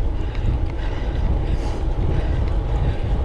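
Steady roaring wind buffeting the microphone while riding a gravel bike into a headwind, a constant loud low rumble with no breaks.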